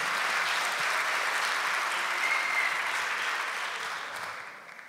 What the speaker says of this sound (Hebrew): או שכולם מוחאים כפיים או שאף אחד